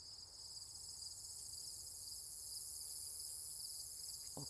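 Crickets chirping in grassy fields at a nature preserve, a dense, continuous high-pitched trill that fills the background evenly, fairly faint and distant, with a soft crunch of gravel footsteps at the very end and no talking.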